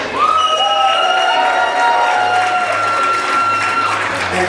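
Loud, dense applause with some cheering from an audience at the Steel Town Throw Down climbing event at an ASCEND gym in Pittsburgh, sustained and even throughout, with a few faint voices and tones over the top.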